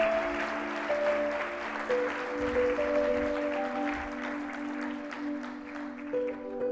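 A church congregation applauds in praise, a steady wash of clapping that lasts the whole stretch under sustained organ or keyboard chords, with no voices over it.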